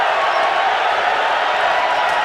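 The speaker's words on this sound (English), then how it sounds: "the crowd has a chance to stand and cheer" A large boxing crowd roars steadily after a knockout, a dense wash of cheering and shouting with no pauses.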